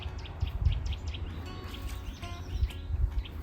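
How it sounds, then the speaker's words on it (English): Birds chirp outdoors on a calm day around a country château, with a run of short, high, bright calls near the start and scattered chirps later, faint over a low rumble of wind. "it's kind of nice out here with all the birds chirping"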